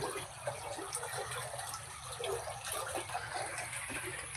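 Water gushes and splashes steadily in a continuous, fairly loud rush, with no voices.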